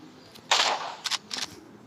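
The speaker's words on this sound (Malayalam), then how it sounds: "ഇപ്പോൾ നമ്മളെല്ലാത്തിനെയും വെടിവെക്കുകയാണ്." Gunshots in a hunting video game, three short sharp cracks spaced about half a second apart, close and moderately loud over a faint low background hum.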